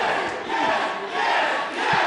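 A large crowd roars approval at a wrestling match in Villa Park, a loud, dense, sustained swell of cheering and shouting that rises and falls in waves.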